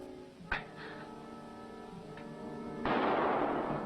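A single sharp shot cracks out early in an animated Captain America episode, followed by a fainter second report and a rising wash of noise at the end, with a musical score running underneath.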